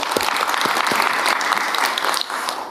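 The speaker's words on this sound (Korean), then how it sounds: "박수로 한번 주시죠." Dense, steady clapping from a sizable crowd at a meeting between the South Korean president and foreign business representatives, loud and sustained throughout before dipping slightly near the end.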